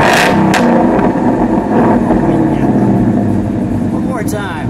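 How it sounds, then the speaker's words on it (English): A 2017 Roush Stage 3 Ford Mustang with a Borla exhaust blips its throttle from idle, a loud close-up rev that swells and falls back to a rumbling idle, with people speaking over the engine. "and then we'll give it a little rev."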